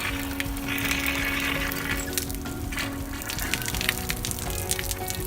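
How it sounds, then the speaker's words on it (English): Water gushes steadily from a hose into an RV's freshwater tank, a continuous close hiss and rush of flow with no pauses. "when you're filling up your freshwater tank, it's like it's filling up now"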